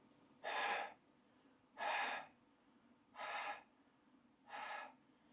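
Four slow, even exhalations into a respirator mask to check the seal for air leaks, each a soft, breathy whoosh lasting about half a second with short quiet gaps between, close and clear with no talking.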